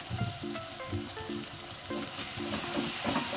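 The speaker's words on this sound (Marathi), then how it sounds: "मिक्स करून घेऊया चांगलं." Red chili masala frying in a pan for a soybean curry, a steady close sizzle with brisk, rhythmic stirring strokes scraping through it, no voices.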